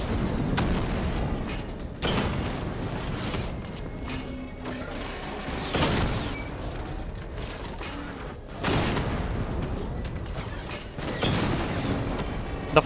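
Several loud booming gunshots at a tower in Batman: Arkham Knight, spaced a few seconds apart, over a continuous rumbling, clattering backdrop.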